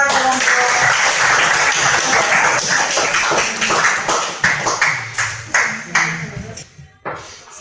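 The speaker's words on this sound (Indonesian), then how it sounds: "kita berikan aplaus kepada kelompok" A student group in a high school classroom gets a burst of applause that starts dense and loud, then thins into scattered claps before fading out.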